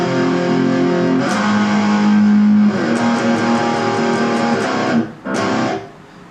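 Distorted electric guitar sustains whole-note chords through a song's chorus as the second guitar part, with loud, steady ringing chords and a brief drop near the end before it resumes.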